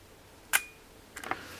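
Argus V-100 camera leaf shutter firing, a quiet, sharp single click followed about 0.7 seconds later by a softer, double-ticked mechanical return, close and isolated with no voices.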